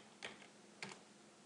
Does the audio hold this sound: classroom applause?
no